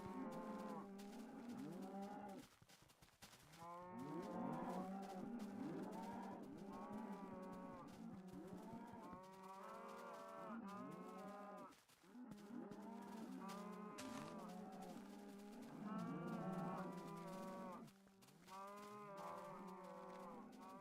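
Cows in Minecraft (PS3 Edition) moo repeatedly, the calls overlapping in a near-continuous chorus of low, drawn-out lows that rise and fall, close and clear with brief pauses between.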